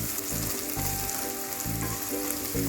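Ginger and green chillies frying in hot oil in a pan give a steady, close sizzle with crackling bursts throughout, and nobody speaks.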